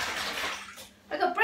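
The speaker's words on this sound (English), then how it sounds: "Why would you pour boiling water into a jug like that?" Boiling water poured from a kettle into a jug while making stock, a broad splashing pour that pauses briefly and then resumes louder and brighter, close by in a kitchen.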